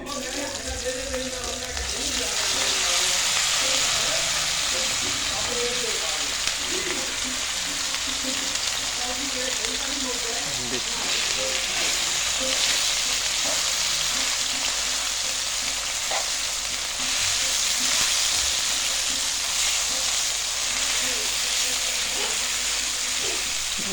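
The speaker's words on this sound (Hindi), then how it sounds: "अब तवा भी गर्म हो गया है, तो इसको अब इसके ऊपर डालते हैं।" Spiced beef qeema sizzles on a hot tawa, making a loud, continuous hiss with scattered stirring clatter throughout. There is no talking.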